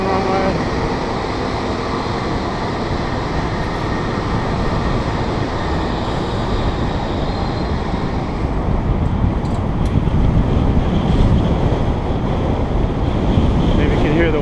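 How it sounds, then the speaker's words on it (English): Wind roars steadily across the microphone while cycling on a city street in Harbin, China, a dense rumbling rush that grows slightly stronger in the second half. "Maybe you can hear the wind."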